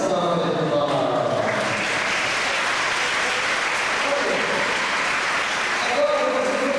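A congregation gives a round of applause during a church service, with steady dense clapping that carries on throughout, loud and close, while a voice speaks over it.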